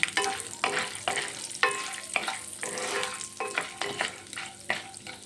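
Peanuts, chana dal and mustard seeds being stirred in a pan: repeated loud scraping strokes in an uneven rhythm over a soft background sizzle.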